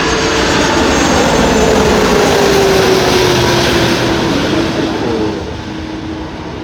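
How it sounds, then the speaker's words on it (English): An Egypt Air Cargo Airbus A330-200 freighter passes at an airport with a loud, steady jet engine roar and a faint tone that slowly drops in pitch, fading slightly toward the end. "here's the A330-200 freighter of Egypt Air Cargo from Cairo"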